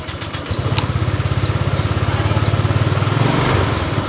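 A Honda Click 125 scooter that starts hard and accelerates poorly, its engine catching after a brief crank and running in a loud, close, rapid pulsing idle with a slight rev near the end.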